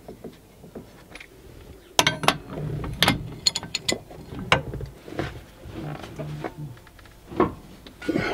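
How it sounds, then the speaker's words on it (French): A wrench tightens a nut on a car differential shaft during oil seal work, giving a series of close, irregular metallic clicks, ratcheting and clanks spread across several seconds. "Je vais le serrer à la clé"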